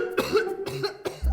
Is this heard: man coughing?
yes